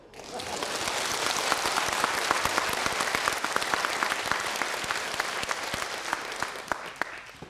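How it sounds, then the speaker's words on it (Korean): A church revival audience breaks into applause during a comic sermon, the clapping swelling quickly into a dense, lively patter with some sharp individual claps standing out near the front. "박수"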